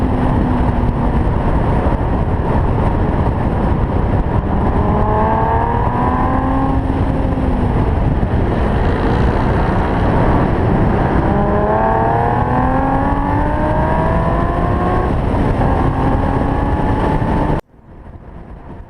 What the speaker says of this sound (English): Did I mention I love my exhaust?